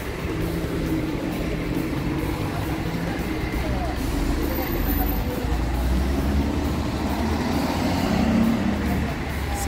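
A 2006 Ciferal Citmax bus on a Mercedes-Benz F1418 chassis idles nearby with a loud, steady diesel rumble that never changes, while someone talks over it throughout.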